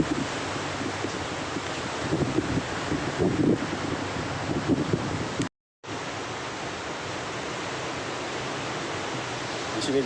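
Ocean surf washing onto the beach at Ciletuh Geopark near Pelabuhan Ratu, a steady broad hiss mixed with wind on the microphone, briefly cutting out midway before resuming.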